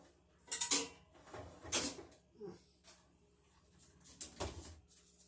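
Quiet kitchen clatter: a few sharp metallic clinks and scrapes as a pan is taken out of a dishwasher, with brief creaks between them.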